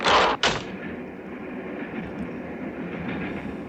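A train runs along the tracks in the 1963 film From Russia with Love, with a loud burst at the start and then a steady rolling rumble and rattle of carriages that continues evenly.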